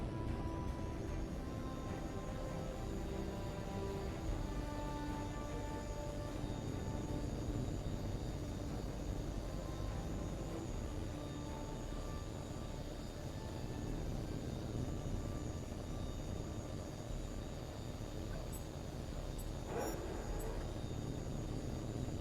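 A fighter jet in the flight game H.A.W.X. 2 roars steadily on takeoff, with a loud sustained engine rumble and a high whine running throughout, then a brief bright electronic beep near the end.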